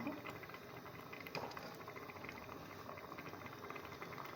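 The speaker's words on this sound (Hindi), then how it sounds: "अब इसको मज़ीद पकाऊंगी, इतना पकाऊंगी ये पानी खुश्क हो जाए।" Saag cooks in a pot over medium heat until its water dries off, giving a soft, continuous bubbling and sizzling patter that stays faint and close.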